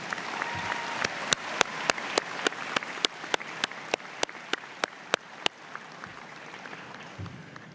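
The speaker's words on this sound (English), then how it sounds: "please join me in a round of applause for your friends and families" An audience at a spring university convocation applauds friends and families, a broad crowd wash with one close clapper striking sharp, regular beats that stop partway through as the ovation tapers off.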